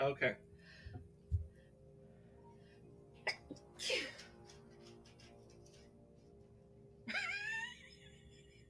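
A single sharp human sneeze bursts out near the end, following a few quiet clicks and short bits of talk in a room.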